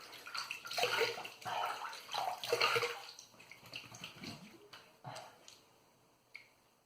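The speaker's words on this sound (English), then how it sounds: "Let me rinse up and see how it feels." Water splashes and rinses against a face in a bathroom after a razor shave, several bursts of close splashing and dripping with no talk, tapering off into quieter drips.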